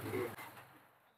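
A high-flying tulo pigeon gives a short, faint coo, soft and muffled against background noise, lasting about a second.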